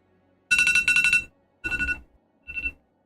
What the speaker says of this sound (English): alarm's going off